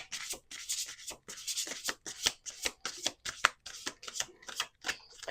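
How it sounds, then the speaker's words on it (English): A deck of oracle cards is riffled and shuffled by hand nearby in a quick series of crisp, papery bursts with short pauses between them, and no one speaks. "Let's do 2 more shuffles."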